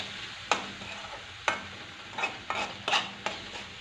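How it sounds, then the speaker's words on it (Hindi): Spices and tomatoes roasting in a pan for a spicy, fairly dry potato, pea and fenugreek curry, with a steady low sizzle broken by several sharp spoon scrapes and stirs spaced about a second apart. "सारे मसाले हमने ले लिए हैं, इसको भून लेते हैं खूब अच्छे से।"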